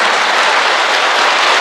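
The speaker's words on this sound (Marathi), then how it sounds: "आई या डोनरसाठी अशाच पुन्हा एकदा फार जोरात आवाज होईल अशा टाळ्या वाजवा" An audience applauding a donor at a health talk, dense steady clapping from many hands that fills the whole short stretch, loud and close, with no voices over it.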